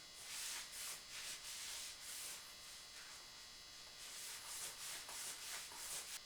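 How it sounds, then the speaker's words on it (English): Coarse toweling is rubbed back and forth over a metal part of a .32 squirrel rifle kit, a faint, close, rhythmic scratchy swishing in repeated strokes. "now we're going to take this coarse toweling and see what else we just rub off"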